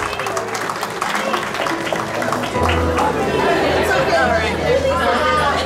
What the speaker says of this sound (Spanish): fuertes los aplausos para ellos, que se escuchen